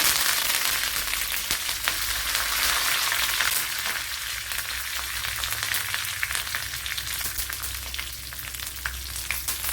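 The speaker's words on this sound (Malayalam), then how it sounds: "ഇതിലേക്ക് കുറച്ച് പച്ചമുളക് ഇട്ട് കൊടുക്കുക ഇനി ഇതിലേക്ക് കറി ലീവ്സ് കൂടെ ഇട്ട് കൊടുക്കുക" Green chillies and curry leaves sizzle and crackle steadily in hot oil in a pan for a Kerala sadya pineapple pachadi, a dense continuous frying hiss with scattered sharp pops and no talk.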